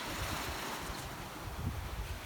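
Strong wind buffets a sailboat under sail at sea, a steady broadband roar with microphone wind noise and water wash, no voices.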